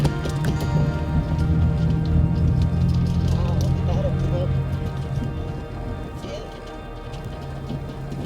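Rain falls steadily on a forested rim road in Arizona, making a dense continuous patter with a low rumble beneath that thins slightly toward the end.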